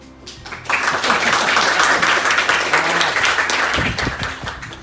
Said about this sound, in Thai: เสียงปรบมือจากทีมงานเรา